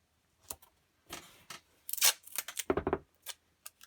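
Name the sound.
tearing off a piece of tape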